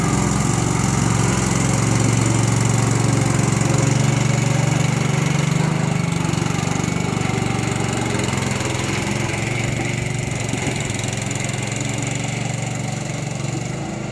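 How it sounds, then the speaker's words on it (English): A road roller's engine runs steadily while rolling asphalt millings, a loud, continuous droning hum that stays constant throughout with no talking. "Got my old man out playing with the roller."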